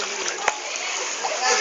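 Splashing water as a child swims in a pool, with one sharp splash early on and steady sloshing throughout, while people talk nearby.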